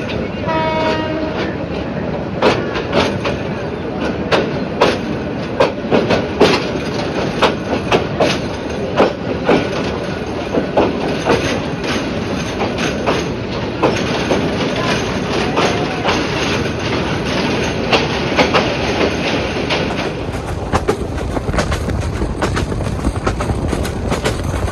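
The Egarosindur Provati Express passenger train runs steadily on rails near Dhaka, with loud continuous rolling rumble and wheel clatter, and a high horn-like tone early on.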